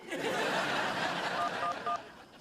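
A telephone is dialed in a Hindi TV comedy serial, with several short electronic tones beeping in a quick sequence near the end while a voice murmurs and chuckles underneath.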